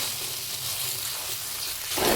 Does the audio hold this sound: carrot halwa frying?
yes